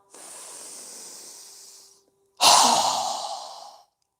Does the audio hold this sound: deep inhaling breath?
yes